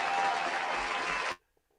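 A short burst of recorded crowd applause plays for just over a second, then cuts off abruptly into near silence.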